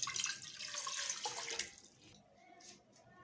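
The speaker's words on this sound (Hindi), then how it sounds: "नाज़रीन, मैंने इसमें 1 गिलास पानी डाल दिया है।" A glass of water pours into a cooking pan while making palak gosht with chicken: a bright, splashy gush for about a second and a half, then fading to faint trickles and drips.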